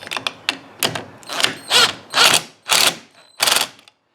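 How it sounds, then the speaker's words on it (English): Impact driver fastening the replacement head on an EGO 56V ST1500F string trimmer: about eight loud ratcheting bursts, each building in length and strength, close up with no talking. "And then tighten it down with the impact."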